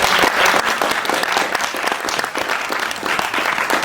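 An audience applauds panelists at the close of a conference session on the effects of the Russia-Ukraine war, a dense, steady clapping that holds at an even level for several seconds with no voices over it.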